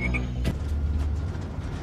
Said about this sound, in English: Big Frog!